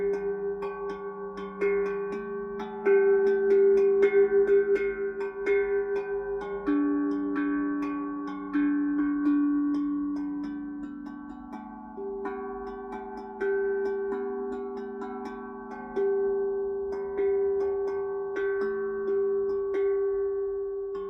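A cowbell is struck repeatedly with a stick, giving loud, bright, ringing metallic hits at a steady, slightly uneven pace that carries through the whole passage without any talking.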